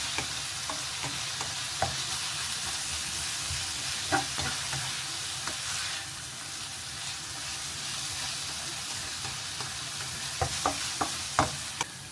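Onion and bacon frying in a pan for paella, giving a steady, dense sizzle throughout with scattered scraping and stirring knocks from a utensil, close and continuous with no talking.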